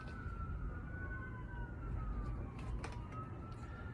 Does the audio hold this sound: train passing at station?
no